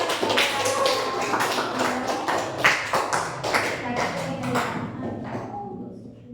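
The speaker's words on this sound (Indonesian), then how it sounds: "Oke, kita tepuk tangan ya." A class of Indonesian students applauding after a group presentation, a crisp flurry of many hand claps that holds steady for several seconds, then thins out and fades toward the end.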